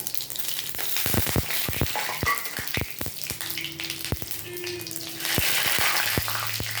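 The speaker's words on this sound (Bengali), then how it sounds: "আমি এবার এর মধ্যে 5 ফোড়ন আর তেজপাতাটা দিয়ে দিলাম।" Panch phoron spices and a bay leaf hitting hot oil for a vegetarian jackfruit curry, with sharp irregular pops and crackles over a low sizzle, close and fairly loud.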